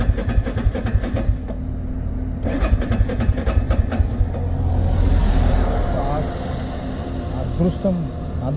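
A motorbike that had trouble starting on a long nonstop road ride cranks, catches and settles into a steady idle, the engine close and loud with a voice faintly in the background.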